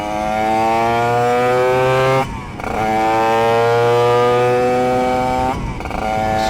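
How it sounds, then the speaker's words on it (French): A Honda RS125 NF4 two-stroke motorcycle engine revs loudly up close, its high buzzing note rising and holding, with two brief drops off the throttle between long sustained revs. "ce deux temps qui chante là"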